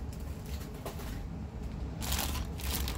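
A Stoeger STR-9 pistol is pulled out of a bag, giving rustling, crinkling and scraping of fabric that grows louder and busier toward the end, close up with no talk.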